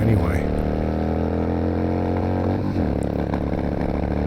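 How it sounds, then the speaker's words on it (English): A 2002 Yamaha XVS650 V-Star V-twin runs close and loud with a rough, uneven throb, its front cylinder cutting out, while a voice talks over the engine throughout. "you can hear that number one cylinder cutting out the front cylinder"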